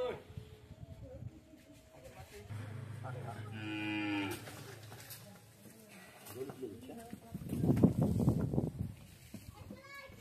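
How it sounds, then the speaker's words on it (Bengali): Andhra bulls at a South 24 Parganas cattle farm give one drawn-out, loud moo as they are led out of the cowshed, with someone talking over much of the scene. "শুধু তোমাদের দেখানোর জন্য গোয়াল থেকে দুটো বয়েল বার করানো হয়েছে"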